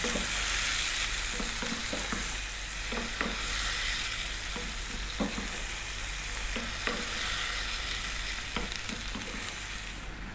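Tomatoes frying and cooking down in a pan for salami pasta, giving a steady, close sizzle with occasional stirring scrapes and taps throughout.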